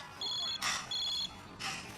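A phone rings in two short electronic bursts with pauses between them, heard fairly close with clatter and other noise in between.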